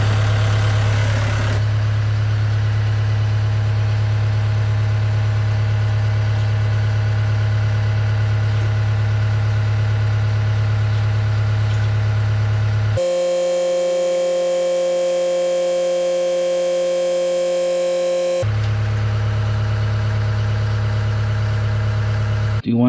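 A Cat 272D3 skid steer's engine idles steadily with a deep, continuous rumble. Its tone changes briefly partway through, then the same even idle returns.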